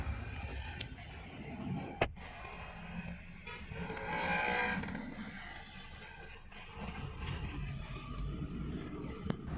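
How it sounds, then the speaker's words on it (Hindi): A Suzuki Ciaz engine idling just after starting, a steady close mechanical hum with a sharp click or knock partway through and a slight swell in the middle, heard alone without talk. "स्टार्ट करते हैं गाड़ी को।"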